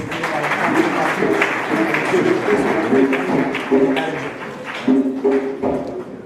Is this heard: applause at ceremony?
yes